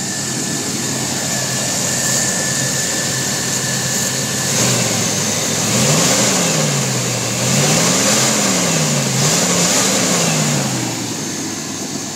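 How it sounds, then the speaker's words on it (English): A Chevrolet S10 pickup truck engine hums steadily on a test drive, then its pitch rises and falls in a few gentle waves of acceleration and easing off, heard from the cab with constant road noise and no talk. "let's go ahead and take it for a little test drive"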